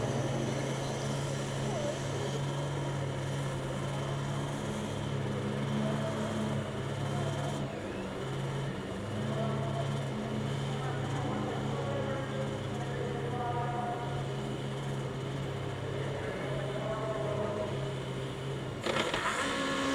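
A loud, steady Formula Student race car engine roar with deep droning tones runs throughout an autocross event, rising slightly near the end as the car pulls away.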